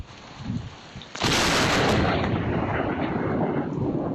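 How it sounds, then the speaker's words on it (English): After a second of quiet rumble, a sudden deafening crack of lightning striking a police car bursts out and rolls on as a loud, sustained roar of thunder, caught by a security camera. "This security camera caught this police car getting struck by lightning."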